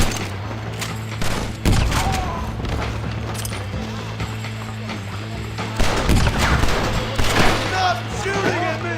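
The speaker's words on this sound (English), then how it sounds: "Stop shooting at me!" Rapid exchanges of gunfire in a Red Dead Redemption shootout: repeated sharp shots and volleys crackle throughout at close range, with shouting voices over the battle.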